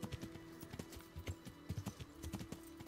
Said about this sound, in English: I love riding my horse across the open fields.